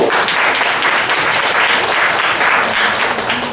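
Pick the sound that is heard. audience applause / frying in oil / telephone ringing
audience applause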